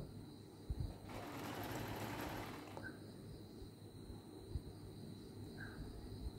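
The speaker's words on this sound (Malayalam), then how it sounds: "അപ്പം അതിനുവേണ്ടി അതെല്ലാം ഒന്ന് തയ്ച്ചെടുത്തു." Sewing machine stitching along the side of a mat, a faint steady whirring run lasting under two seconds amid quiet room noise.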